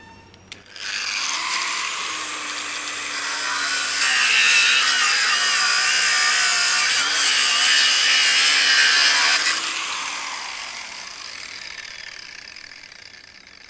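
An angle grinder cuts a divot into a model railway station platform edge, giving a loud, steady whine with a pitch that rises and dips as it bites, running alone for about nine seconds.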